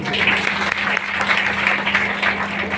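A small crowd claps for a washing machine gift at a birthday gathering in an old-age home, a short burst of steady applause, fairly close and loud.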